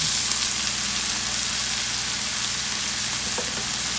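Rice poured into a pan of browned onions frying in oil, a loud, steady close-up sizzle with faint scraping and stirring mixed in, no voices.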